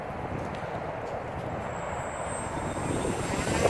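Ritewing Drak FPV plane motor at full throttle, a steady loud whirring drone that holds throughout and swells slightly toward the end.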